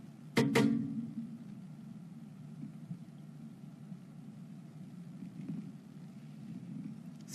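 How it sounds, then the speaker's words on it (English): The BE-3 engine of a Blue Origin New Shepard rocket relights during a West Texas landing. A sharp crackle-like burst is followed by a steady low rumbling roar that continues at moderate level. "There's the BE-3 engine relight."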